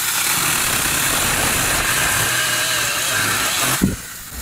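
Cordless mini chainsaw cutting through a 2x4 wooden stud, a loud, steady buzzing whine for several seconds that drops off abruptly as the cut finishes, no voices.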